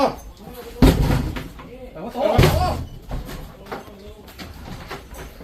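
A door is forced open during a police raid on a gang in Bangkok's Nong Chok district, giving two heavy bangs amid loud shouting voices and further thumps.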